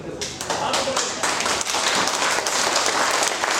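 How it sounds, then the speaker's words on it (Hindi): A group clapping with their hands raised during an energetic stretching session at an achievers' event, steady dense clapping throughout, with voices and cheering mixed in. "अब ताली हाथ ऊपर करके"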